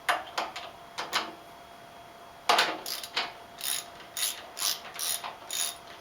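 A ratchet with a 12mm socket removes a bolt on a motorcycle, giving repeated bursts of sharp clicking pawl strokes in short rhythmic runs, close and clear with no speech.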